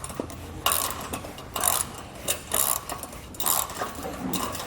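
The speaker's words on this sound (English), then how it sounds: "Come back with my ratchet and wrench and tighten it down." A ratchet wrench tightens a nut on a Malone EcoLight Sport trailer, giving short bursts of metallic clicking in irregular strokes, close and fairly loud, with no talking.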